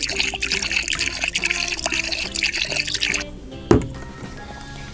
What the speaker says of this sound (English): Let's pour some bubbles in first this time.